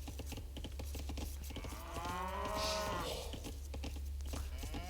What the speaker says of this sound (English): blue has all these cows sitting here